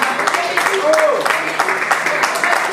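Guests at a Christmas Eve dinner applaud the volunteers, a brief spell of scattered, moderately loud clapping in a room with voices and a short tonal sound mixed in.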